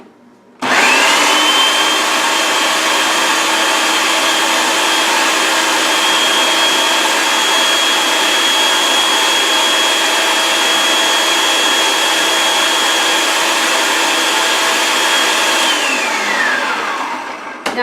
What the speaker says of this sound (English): Put your lid back on your food processor and blend it together.